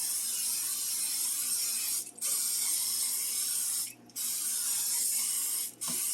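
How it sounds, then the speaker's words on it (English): Three bursts of hissing cooking spray onto a pan, the first and last short and the middle one longer, close and fairly loud, with no talking. "First thing I'm going to do is spray the pan generously."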